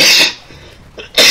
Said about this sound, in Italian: Domando scusa per la tosse.